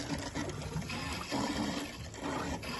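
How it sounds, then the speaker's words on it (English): Water filling an underfloor heating circuit through a filling loop, a steady broadband rushing and gurgling flow with bubbly turbulence from trapped air, continuous and fairly close throughout. "So we're filling up via this filling loop and it's going all the way round,"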